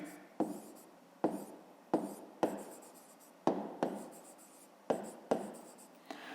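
Pen strokes scratching across paper as numbers are written for a math exercise, about ten short crisp bursts spaced irregularly, close and alone without speech.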